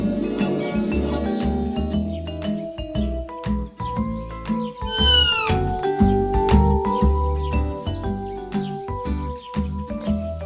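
A cartoon cat meows several times over a busy, loud music and effects track, in a Hindi Panchatantra animated story where a mouse is turned into a cat.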